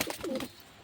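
A male red-spotted fancy pigeon gives a single short, soft coo close by, lasting under a second.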